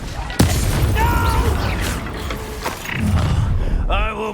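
A fiery Incendio spell blast bursts out with a sharp boom in Hogwarts Legacy combat, followed by ongoing rumbling battle noise and a voice talking over the action.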